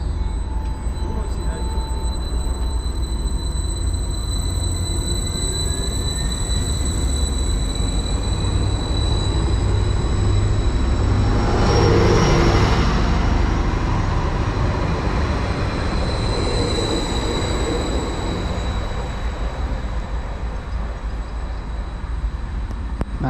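A passenger train departing a station on the Bittern Line rumbles steadily nearby for over twenty seconds, its low roar swelling midway with faint wheel squeals and whining tones.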